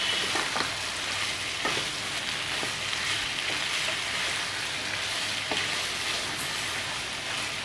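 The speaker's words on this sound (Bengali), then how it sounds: "ভালোভাবে কষিয়ে নিতে হবে সবজিগুলো দিয়ে" Shrimp frying with vegetables in a hot pan, giving a steady, dense sizzle with occasional stirring scrapes, close and even throughout with no talking.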